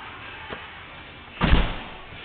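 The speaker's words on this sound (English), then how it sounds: "Let me shut a couple of doors here." A faint knock followed by a single heavier thud of a door being shut nearby, with muffled room noise around it.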